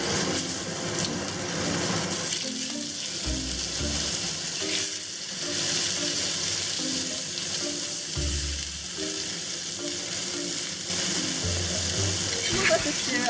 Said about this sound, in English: Add extra oil to the pan. And then we're going to cook the tofu.